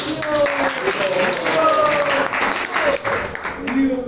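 Audience clapping during a devotional talk on Lord Jagannatha at an ISKCON youth gathering, a steady patter of many hands under a speaking voice, with a few tonal voice lines.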